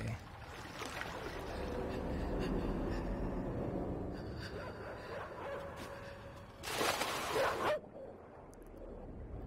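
Dogs bark and yip in the side-scrolling game Inside, a steady run of barking over a low rumble with someone talking over it, followed by a louder burst of splashing near the end.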